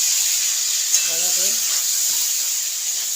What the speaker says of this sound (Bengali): এগুলো ভেজে নেবো